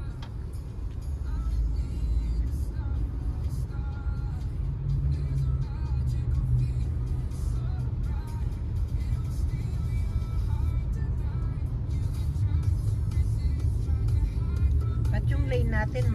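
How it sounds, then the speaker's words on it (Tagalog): Slow traffic inside a road tunnel, a continuous enclosed rumble of car engines with occasional passing and revving vehicles, steady and fairly loud throughout. "Pati dito tayo sa tunnel,"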